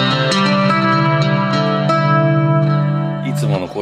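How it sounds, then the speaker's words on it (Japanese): A Terada-built Gigpaker VRC II guitar rings out in loud, sustained chords and notes drenched in reverb and chorus effects, with a final strum and rattle near the end. "ここでリバーブとコーラスかけちゃうとまた豪華なサウンド"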